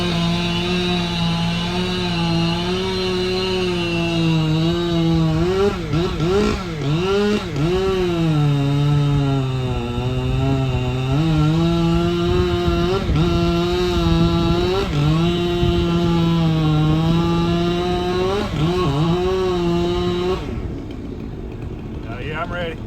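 Husqvarna 592xp chainsaw cutting a tree beside a full propane tank, loud and close, its engine revving and bogging in waves before cutting off near the end.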